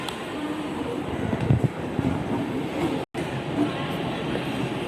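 A Mumbai metro train rumbles past overhead with a low, steady roar and faint rattling, a brief dropout midway, with some background voices.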